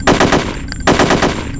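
Two rapid bursts of Kalashnikov rifle fire on a training range in Hitman: Codename 47. The automatic shots are loud and close, with a brief pause between the bursts.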